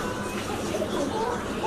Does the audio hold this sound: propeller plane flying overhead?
no